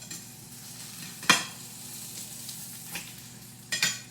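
Low carb breakfast food fries and browns in a pan, a soft steady sizzle over a low hum, interrupted by a few sharp utensil scrapes and clinks.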